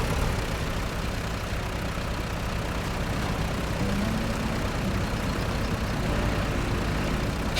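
Small lawnmower-type engine powering logging equipment runs steadily and close by, a continuous loud, rough drone with no break or change in pace and no voices over it.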